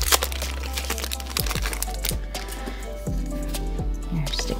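A Pokémon Brilliant Stars booster pack wrapper is torn open up close, with crisp foil crinkling and sharp crackles running throughout over a low steady hum.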